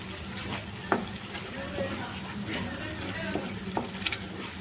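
Mushroom masala gravy seasoned with salt and chili powder sizzles steadily in a pan while it is stirred, with soft scraping and bubbling close by and a voice talking over it.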